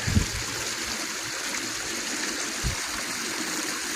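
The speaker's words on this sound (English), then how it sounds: "I'm about to wash my feet off." Water running steadily as feet are washed off at a flooded campsite, a constant trickling, splashing wash with a couple of soft low thumps, close by and no talk.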